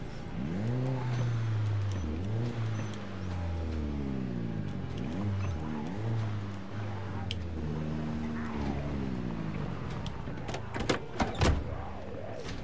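A car engine idles and revs in the zombie survival game Project Zomboid, a steady low harmonic drone that repeatedly swells and dips in pitch, with a few sharp clicks near the end.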